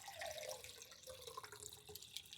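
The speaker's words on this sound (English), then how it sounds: "Just going to add some water" Water runs faintly into a dry flower vase being prepared for an airy Queen Anne's lace and orlaya arrangement, a soft continuous trickle and splash close by, with no voices.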